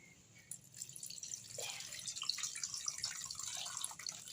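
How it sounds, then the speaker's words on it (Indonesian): Water is poured into a homemade pesticide mixture of garlic and papaya leaves, a soft, close splashing and trickling that starts after a brief knock and carries on quietly to the end. "setelah aduk ini, kita tuangkan air secukupnya"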